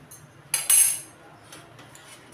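A metal spoon clinks against a pot or bowl while three spoonfuls of oil are measured out, with a few sharp close chinks followed by softer light taps in a quiet kitchen.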